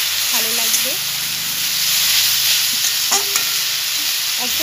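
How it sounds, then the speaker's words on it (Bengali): Sliced onions fry in hot oil in a pan, giving a steady close sizzle broken by occasional scrapes and clinks of stirring. "পেঁয়াজগুলো খুব সুন্দর ফ্রাই হচ্ছে"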